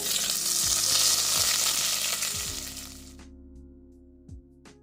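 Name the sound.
curry leaves sizzling in hot oil for sambar tempering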